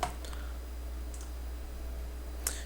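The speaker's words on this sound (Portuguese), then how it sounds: "Eu aperto F9 aqui do meu teclado" Single key press on a computer keyboard (the F9 key) to compile and run a C program, heard as a few faint, close clicks spread over a steady low hum.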